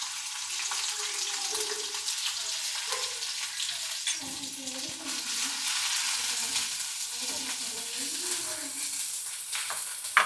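Whole spices and crushed garlic frying in hot oil for a Konkan-style shark fish curry, giving a steady, close, hissing sizzle throughout, with a faint voice murmuring underneath.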